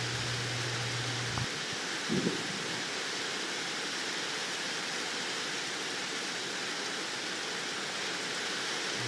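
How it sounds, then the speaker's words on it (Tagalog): Heavy rain pouring down as a constant, dense hiss, with a low hum at the very start and a brief dull thump early on, otherwise unbroken and without voices. "Kusog na jud kaning ulan"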